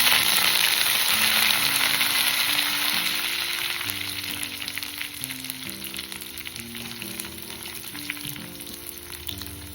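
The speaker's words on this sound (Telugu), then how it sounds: "కడాయిలో ఆయిల్ వేసి పోపు గింజలు" Mustard and other tempering seeds, split chana dal, crushed garlic cloves, dried red chilies and curry leaves fry in hot oil in a kadai, a loud continuous crackling sizzle close up with no talking.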